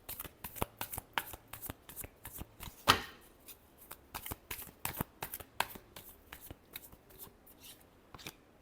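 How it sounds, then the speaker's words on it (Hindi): A deck of cards being shuffled close by, a fast run of crisp riffles and taps with one sharp louder snap partway through, alone without speech. "Last shuffle."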